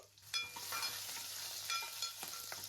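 Spices, including dried red chillies and curry leaves, crackle and sizzle in hot oil for tempering, a fairly quiet steady frying hiss with small spitting pops and light stirring.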